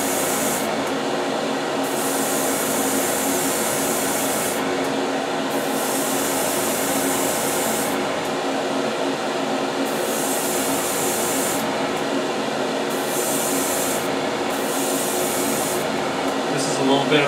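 An airbrush sprays paint onto a USS Discovery model in repeated hissing bursts of a few seconds each, close and steady, over a constant background hum.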